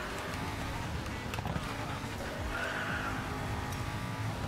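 Tires skid and squeal as a modified Bugatti drifts wide through a corner in a racing video game, a steady loud engine and tire roar running throughout with game music or effects layered underneath.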